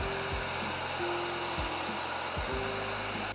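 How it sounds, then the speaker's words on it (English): A heat gun blows hot air onto fresh primer on laminate furniture outdoors on a cold day, a loud continuous whooshing hum with a few soft knocks beneath it. "I sped up the drying process by using a heat gun."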